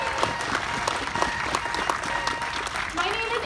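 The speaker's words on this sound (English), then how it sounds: "Let's give another round of applause to Mary Lynn, who has been a key organizer." A crowd at an outdoor rally applauds an organizer, steady mixed clapping with a few sharper claps standing out, continuous through the short stretch amid light crowd noise and speech.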